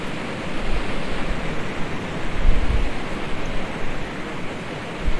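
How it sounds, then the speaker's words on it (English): A loud waterfall in the Trainz railway game gives off a constant, full roar of rushing water that fills the clip evenly from start to finish, with no voices over it. "Get that sound of the loud waterfall for some reason."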